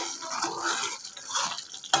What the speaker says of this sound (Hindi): सब पाउडर पकई सारा बाद तापर आम एटा भल से